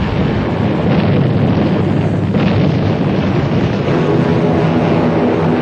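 Heavy, sustained roar of explosions and aircraft during a World War II Luftwaffe dive-bombing attack on a British naval fleet off Crete, loud and continuous with a rumbling low end and no speech.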